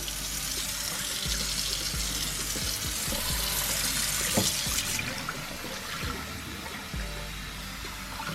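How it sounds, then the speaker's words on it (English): Water runs steadily from a tap into a sink, a continuous hiss with scattered knocks and splashes, fairly quiet and alone. "Okay, we're going to turn our water on."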